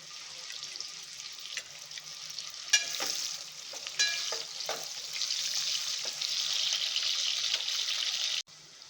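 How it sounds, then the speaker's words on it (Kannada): Onions frying with cardamom and cloves for biryani, a bright steady sizzle building over several seconds, with a few stirring clinks and scrapes, cut off abruptly near the end. "4 ಏಲಕ್ಕಿ, ಮತ್ತು ಈರುಳ್ಳಿ ಕೂಡ ಹಾಕ್ಕೊಂಡ್ಬಿಡ್ತಾ ಇದ್ದೀನಿ."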